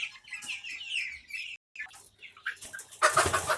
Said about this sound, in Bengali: হ্যাঁ, সোনালী মুরগি রয়েছে।